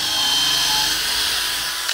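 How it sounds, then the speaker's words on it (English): Power drill running continuously while a sauna is being assembled, a steady loud whirring drone that holds for the full two seconds with no voices over it. "now we are currently drilling"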